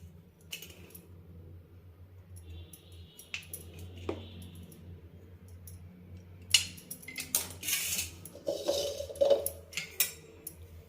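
Lemons sliced with a knife on a board for a lemon, mint and jaggery juice, giving sparse light taps and clinks, then a busier run of cutting and clattering toward the end with no one talking.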